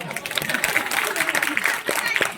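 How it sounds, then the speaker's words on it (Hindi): A live audience at a Hindi comedy stage show bursts into close, dense clapping that runs continuously through the short moment. "जरा के लिए ताली बजाओ भाई"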